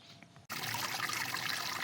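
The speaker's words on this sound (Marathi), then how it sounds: "आवाज बघा कसा तो पाण्याचा" A farm stream in a field rushes steadily after a brief quieter moment, a close, full gush of flowing water lasting under two seconds.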